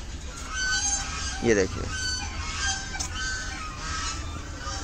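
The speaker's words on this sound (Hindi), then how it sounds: "यहाँ पे इतनी डक्स हैं कि मैं आपको बताता हूँ।" Ducks on a lake in Lodhi Garden, Delhi, give a few brief honking and quacking calls in the middle, heard at moderate distance over steady outdoor ambience while someone speaks.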